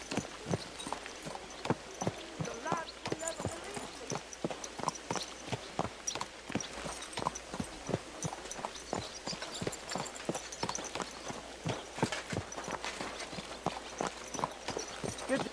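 Horse hooves clip-clop steadily at a trot in the medieval game Kingdom Come Deliverance 2, a fast, even run of sharp knocks that carries on throughout with no talk over it.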